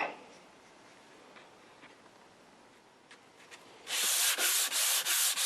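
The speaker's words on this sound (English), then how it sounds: "Now first we're just going to be sanding off the sanding sealer." Quiet room hiss with a few faint taps, then close, loud sanding strokes begin on sanding sealer on an RCA Radiola 60 radio's wood finish, rhythmic scratchy back-and-forth rubs repeating steadily.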